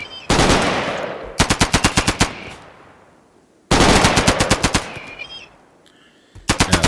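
Rapid bursts of automatic gunfire from the RimWorld video game, loud, close and repeated in two main volleys with quick rhythmic shots, no talk over them.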